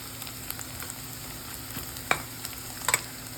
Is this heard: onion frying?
yes